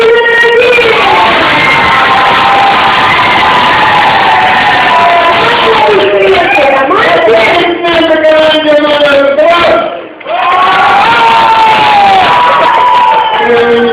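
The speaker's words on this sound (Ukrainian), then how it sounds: "давайте аплодисменты, аплодисменты команде" A loud, close crowd of adults and children cheers, shouts and whoops for a team, keeping up a dense roar with scattered clapping, shrill children's yells and brief voices mixed in for the whole stretch, with a short dip near the end.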